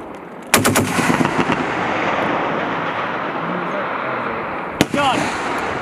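An M2 heavy machine gun fires short bursts during a live-fire range event at Fort Indiantown Gap, a rapid loud burst near the start and a single sharp shot later over an outdoor hum, with people talking around it.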